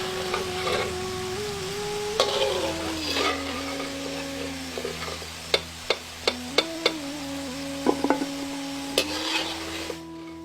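Chopped boiled greens sizzle and crackle steadily in hot oil in a pan, with several sharp metallic clicks and scrapes from a spoon stirring against the pan, no voices.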